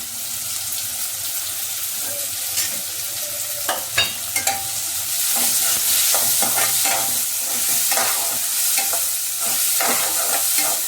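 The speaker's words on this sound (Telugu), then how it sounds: "అలాగే 2 రెమ్మల కరివేపాకును కూడా వేయించాలి." Curry leaves frying in hot oil in a pan for a potato and yellow cucumber curry, a dense continuous hiss and crackle with sharp pops near the start, growing louder midway, close and with no talking.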